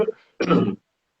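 A person with a cold clears their throat briefly, pauses, then gives a harsher, longer cough-like throat clear, close and with nothing else around it.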